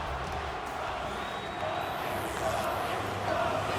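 Arena crowd at a WWE 2K25 SummerSlam pay-per-view match chanting for The Rock, a dense steady roar of many voices that swells slightly toward the end, with commentary talk over it.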